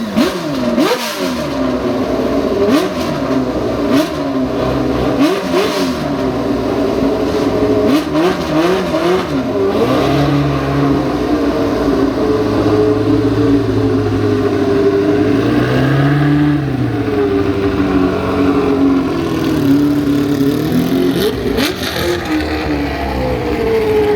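An Aston Martin classic car at the Yorkshire Elegance 2025 show cranks and fires up, then revs repeatedly with rising and falling engine sweeps, loud and close, settling into a rough, throaty running note without talk.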